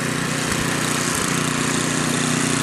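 A big snow blower engine runs steadily during a 2011 blizzard, its close, loud, even drone holding without pause.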